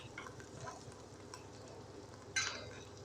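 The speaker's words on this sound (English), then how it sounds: "Let's stir fry until the smell come out." Glutinous rice being stir-fried in a pan, soft scraping and stirring over a quiet sizzle, with one louder scrape of the spatula near the end, close and fairly faint.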